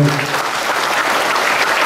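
An audience at a spiritual talk in a Buddhist monastery breaks into applause. The clapping is loud, dense and sustained, a steady wash of many hands close by with no pauses.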